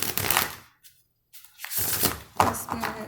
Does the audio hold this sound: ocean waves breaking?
no